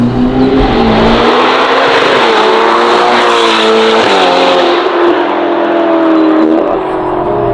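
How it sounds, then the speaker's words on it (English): A 704hp Novitec-tuned Ferrari Roma Spider revs hard through a loud aftermarket exhaust, rising and falling in pitch with deep, raspy bursts, very close and continuous. "With our exhaust system, it's just, honestly, let's listen to"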